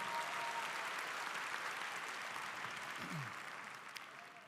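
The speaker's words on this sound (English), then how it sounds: "Can we give this young lady a huge round of applause" Applause fills a large outdoor or arena space at a high school commencement ceremony at Quince Orchard High School as a crowd claps for someone speaker, a soft, distant, even wash that slowly fades toward the end.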